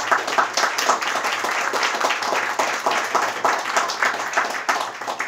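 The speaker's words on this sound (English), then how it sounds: "we should also give Politics and Prose a round of applause" An audience at a book talk claps for the bookstore Politics and Prose, a lively patter of many individual hand claps that holds steady for several seconds and is clearly audible with no speech.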